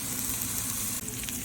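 Bacon, chilies, curry leaves and dried fish fry in a pan for dal, giving a dense, even sizzle that holds steady throughout with no talking.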